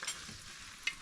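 Dry pasta goes into hot oil for chicken chow mein, giving a faint, brief hiss and sizzle with a couple of small crackles.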